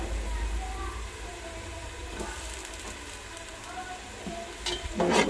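Chopped tomatoes and green chillies fry in a pan for khichuri, with a steady close sizzle. Scraping stir strokes rise toward the end, and a voice talks faintly underneath.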